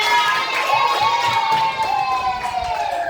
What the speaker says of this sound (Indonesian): Boleh tepuk tangan dulu untuk kita semuanya.